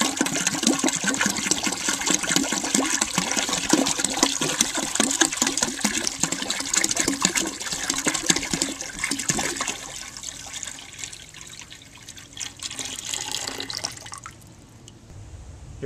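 Water pours steadily into the tank of a 1970 American Standard Cadet toilet, a gallon emptied in one continuous splashing rush that thins out and quiets near the end.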